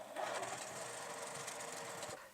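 A Juki sewing machine stitches fabric with a steady, close, continuous mechanical whir that keeps an even pace from start to finish.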